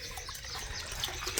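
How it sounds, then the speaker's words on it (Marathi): Water running from a tap into a container, a brief steady splashing gush heard close up. "हे बघा आपले आजोबा पाणी भरून राहिलेत"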